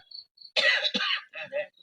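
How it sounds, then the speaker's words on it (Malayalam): A few short, close coughs with a throaty rasp, broken by brief pauses, and a faint high tone lingering in the background. "നമുക്ക് ചുമയുണ്ട് അല്ലേ"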